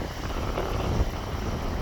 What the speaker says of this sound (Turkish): Evet uçak kalkıyor.